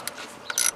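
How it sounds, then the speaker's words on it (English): Quarter-inch drive ratchet with a 7mm socket working a bolt loose on a Ford Contour ignition coil, giving two short faint clicking bursts, the second longer and slightly louder, close up with no talk. "We'll loosen that bolt."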